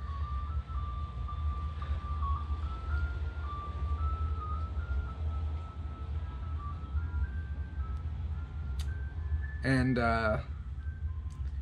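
A faint ice cream truck jingle plays its tinkly melody in the distance over steady background rumble, with a brief voice near the end.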